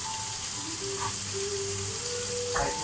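Food frying in a pan gives a soft, steady sizzle and crackle, fairly quiet, with a couple of faint clinks near the end.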